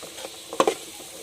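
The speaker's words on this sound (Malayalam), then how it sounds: "നമ്മൾ അരിഞ്ഞു വെച്ചിരിക്കുന്ന പപ്പങ്ങ അതും കൂടെ ചേർത്ത് കൊടുക്കുക എല്ലാം കൂടെ ഒന്ന് ഇളക്കി കൊടുക്കാവേ" Diced papaya is stirred into onions sautéed in coconut oil, producing a soft low sizzle with a couple of quick scraping stirs in the middle, close and brief.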